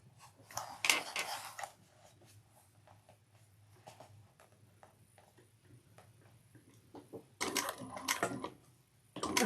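A sewing machine stitches a bucket bag seam at 3/8 inch, with two short bursts of running needle noise, one near the start and one near the end, separated by quiet ticking handling sounds.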